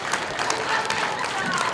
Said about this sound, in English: give the Mechistas a round of applause